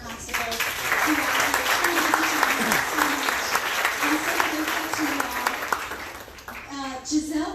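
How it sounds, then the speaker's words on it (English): Audience at a July 2019 town hall meeting applauds for constables, a sustained crowd of clapping hands with occasional voices mixed in, tapering off near the end. "So please, a round of applause for our constables who are"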